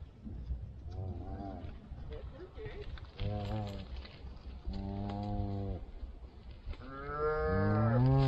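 Cattle on a farm low repeatedly: several drawn-out moos, close and fairly loud, the last one building louder, with outdoor rustling between calls.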